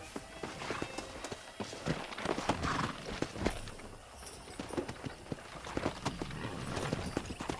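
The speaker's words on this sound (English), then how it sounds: "Let's see if we can't wrangle some horses." Hooves pound rapidly and continuously as horses gallop in the video game Red Dead Redemption, a busy clatter of hoofbeats with faint ambient sound beneath.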